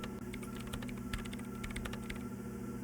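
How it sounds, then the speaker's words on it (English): Continuous computer keyboard typing during a PC game stream, steady clustered key clicks close to the microphone over a low background hum, with no talking. "this is what their keyboard sounds like"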